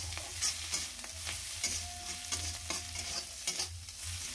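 Ginger, garlic, green chili, salt and turmeric frying in a pan for aloo chop, a close sizzle with repeated scraping stirs of a spatula at an uneven rhythm, no voices.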